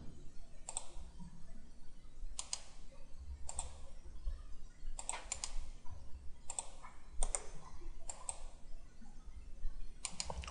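Computer mouse clicks and keyboard key presses come as sharp, isolated clicks spaced about a second apart, close and fairly quiet, over a low background hum with no speech.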